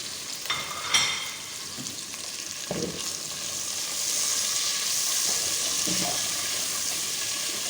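Capsicum and spices stir-fry in a wok for chicken chow mein, giving a constant close hiss of frying that swells midway, broken by scraping and clattering stirs.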